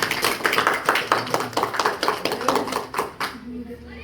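Students clap for a classmate group in a classroom, giving a brisk, fairly close round of applause that lasts several seconds before fading out, with voices mixed in.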